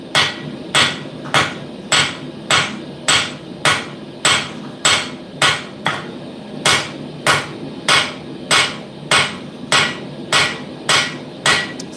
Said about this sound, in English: Still got to get used to this cutlass hammer.